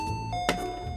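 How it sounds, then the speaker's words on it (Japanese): A doorbell chimes inside a Fortnite horror game about caring for a cursed baby, a brief ding-dong tone standing clearly over quiet background sound. "なんかピンポン来たけど"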